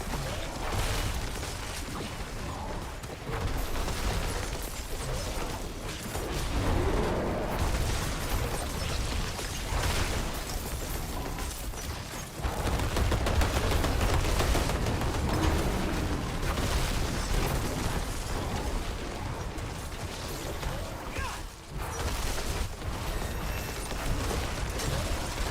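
Interactive horror enemies bursting apart in Diablo 4, a long stretch of muffled booms, pops and whooshes layered over a dense, churning combat din, steady and moderately loud with no clear talking.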